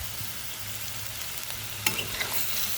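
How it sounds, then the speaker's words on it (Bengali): Onions and grated carrot sauté in oil for fried rice, a quiet continuous sizzle with scraping stirs and one sharper clatter partway through, heard close with no voices. "আমি তেলের মধ্যে পেঁয়াজগুলো ভালোভাবে ভেজে নিচ্ছি, তারপর গ্রেট করে রাখা গাজর দিয়ে দিলাম।"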